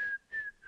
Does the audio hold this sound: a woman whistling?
yes